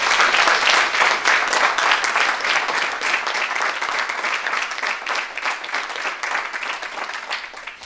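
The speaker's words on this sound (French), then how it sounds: "je vous propose qu'on l'applaudisse très fort." Loud sustained applause from an audience at a youth association presentation, dense clapping that holds steady and slowly tapers over several seconds.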